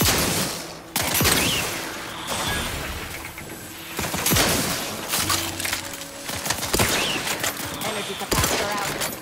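Dense automatic gunfire and rapid shots from a firefight in The Outer Worlds 2 video game, loud and sustained with crackling bursts and some shattering, under occasional game voices.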